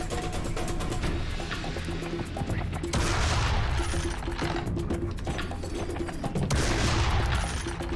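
Double-barreled shotgun blasts in Serious Sam 3: BFE, loud booming shots in rapid succession with clusters of gunfire over dense, continuous game action and roaring noise.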